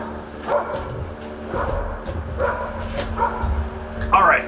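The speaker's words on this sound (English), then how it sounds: "the barking has started to go back down" Dogs bark repeatedly at a distance, short yaps every second or so over a steady background hum.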